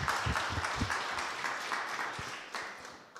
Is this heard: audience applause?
yes